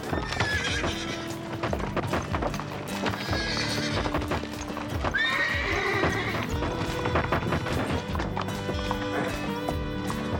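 A frightened horse whinnies repeatedly in a town street while its hooves clip-clop on hard ground, loud and close, with shouting and crowd noise mixed in.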